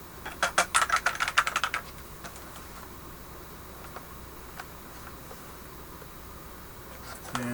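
A quick flurry of clicky keystrokes on an Atari XE computer keyboard opens the passage, followed by a few sparse taps over faint room hiss.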